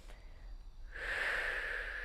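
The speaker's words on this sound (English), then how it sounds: "Breathing out as you lower them down." A steady, breathy exhale during a shoulder-rolling mobility exercise as the shoulders lower, soft and close, swelling after a quiet moment and holding as a long hiss of air.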